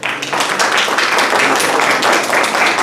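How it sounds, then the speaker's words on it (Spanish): An audience applauds at a book presentation, with loud, steady, dense clapping close by from start to finish. "Y el maestro Emanuel Justo Raña, para quien pido un fuerte aplauso."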